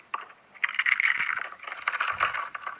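Slime squished and worked by hand, producing close, wet crackling and squelching with a continuous, uneven texture and no talking.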